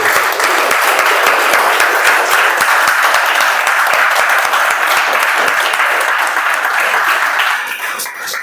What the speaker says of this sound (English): can we have a thunderous round of applause for all?